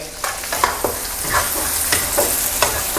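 Loud, continuous sizzling as shrimp and dried chilies stir-fry in a hot pan, with repeated scraping strokes of a spatula stirring the food throughout.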